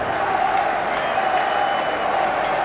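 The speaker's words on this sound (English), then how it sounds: "Great crowd has packed in here to watch this match" A packed stadium crowd at a 1996 European Super League rugby league match between Paris and Leeds, a continuous loud roar and murmur of many voices filling the whole stretch.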